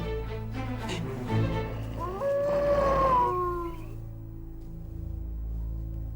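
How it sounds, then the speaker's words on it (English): Wolves howl in long rising and falling tones, several overlapping voices at moderate distance, fading out after a few seconds into quiet background. "They're only wolves."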